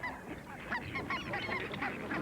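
Geese honk repeatedly at close range, overlapping nasal calls in a busy, continuous chorus with no talking.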